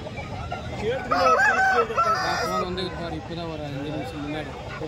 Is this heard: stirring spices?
no